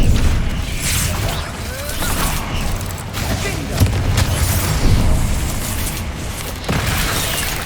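Confringo fire-blast spell in the Hogwarts Legacy video game: loud, dense booming bursts with crackling debris, layered over a continuous rumble of combat effects, several impacts spaced across the stretch.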